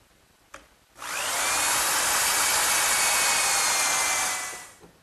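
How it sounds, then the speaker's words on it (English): A power drill fitted with a 1/4-inch brad point bit and depth collar bores into wood for a coffee table, a soft click, then a loud steady whir holding for several seconds before spinning down. "Now to drill the hole, I'm just going to use a 1/4-inch brad point bit with a little collar"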